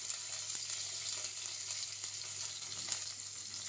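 Garlic, ginger, curry leaves and green chili sauté in hot oil in a pan for a bottle gourd dish, giving a steady, soft, continuous sizzle with a few faint clicks, heard alone without talk.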